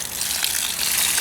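Hot soapy water poured slowly out of a heavy container used for soaking a Briggs & Stratton Intek M44 twin carburetor, a steady close gush of splashing liquid with no talk.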